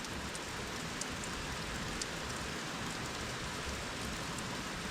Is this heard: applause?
no